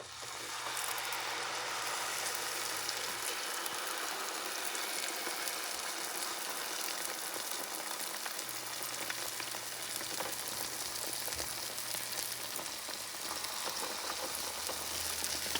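Codfish fritter batter frying in hot oil, a steady dense sizzle and crackle holding at a moderate level the whole way through, with no voices.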